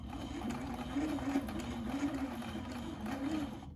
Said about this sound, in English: My fabric down and I'm gonna start stitching